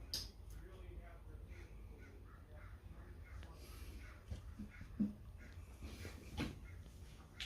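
Crows caw a few times in the distance against an outdoor background hum, with faint voices and other noises around them.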